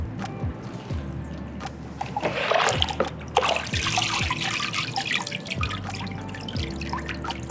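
Water drips and splatters from a paper-making mould full of wet pulp, a run of close, irregular drops and a brief splashing burst over a soft musical background.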